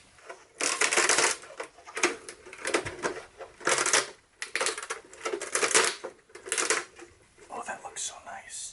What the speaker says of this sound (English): rip all the support material off